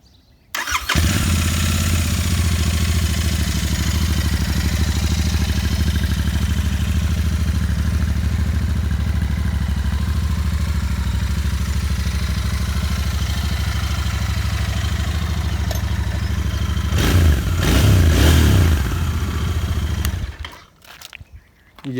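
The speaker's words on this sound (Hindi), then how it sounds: "ये इसका एग्जॉस्ट नोट है," A Royal Enfield Continental GT 650 motorcycle idles with a steady, loud exhaust rumble, then gets a couple of brief throttle blips near the end before the engine cuts off.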